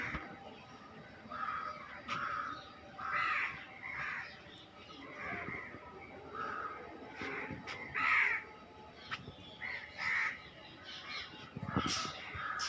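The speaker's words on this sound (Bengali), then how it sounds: "সব পাখিরা ঘরে যাচ্ছে" Crows caw repeatedly at a distance at dusk, short harsh calls scattered across a quiet outdoor background, with faint voices now and then.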